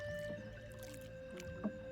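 Quiet paddle strokes from a small rowboat on calm water in rural southern Laos, soft splashes and gurgles with a faint steady tone underneath and no talking.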